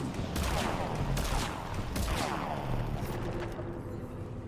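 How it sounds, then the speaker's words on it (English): Bursts of gunfire from a Mass Effect 3 firefight, several sharp shots crackling close in quick succession, then thinning out into a quieter stretch. "Who's shooting me?"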